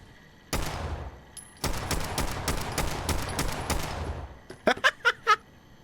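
Akimbo .45 caliber pistols in Fallout 4 fire a rapid stream of sharp, close, loud shots, then after a pause four separate cracks ring out in quick succession.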